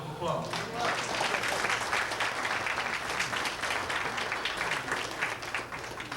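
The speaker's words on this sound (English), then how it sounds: "I think you should give yourself a round of applause." Steady, full applause from a community anniversary celebration crowd, continuous clapping at even volume for the whole stretch with faint voices mixed in.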